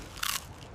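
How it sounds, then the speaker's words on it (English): A single sharp bite into a crunchy Aqua-Dragon crisp made from dragonfly larvae, one brief close crackling crunch that stands out clearly against the quiet. "Listen to that crunch."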